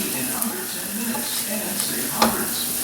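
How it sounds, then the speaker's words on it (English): Flour is stirred in hot oil for a roux on the way to a garlic stuffed pot roast, giving a steady soft sizzle with faint scraping strokes and one brief clink of utensil against pan near the end. "We'll go ahead and stir this flour and just keep stirring it until it browns a little bit."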